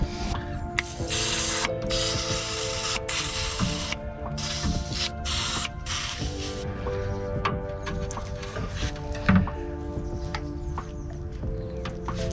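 Mechanical ratchet clicking from removing bolts in the engine bay of a Bedford CF turbo drag-racing van, steady close metallic ticking and clatter over a dense workshop-like background, with a sharper clunk near the end.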